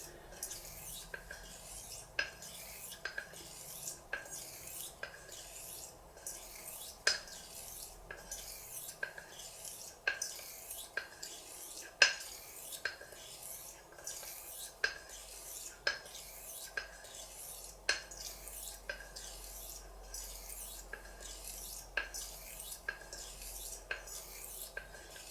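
A straight razor is honed on a sharpening stone while its bevel is set, giving a steady run of rasping strokes, each ending in a sharp click, repeating rhythmically and up close with no talk.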